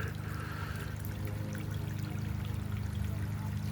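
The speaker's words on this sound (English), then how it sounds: "Got the waterfall" A garden waterfall spills down a small hill into a backyard pond, giving a steady, continuous rush of pouring water close by with no voices over it.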